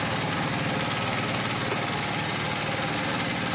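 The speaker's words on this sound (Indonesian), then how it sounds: "Ini ada 2 traktor." Two tractors plow rice paddy fields, giving a dense, steady diesel engine chugging with a rapid knocking rhythm and constant mechanical rumble, loud and unbroken throughout, with no talking.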